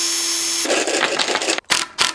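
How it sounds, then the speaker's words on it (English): Power drill pre-drilling wood for 3-inch screws while building a workbench, a short high whirring burst that cuts out briefly and restarts, loud and close, with no talk. "So I'm gonna pre-drill these and screw them together with 3-inch screws."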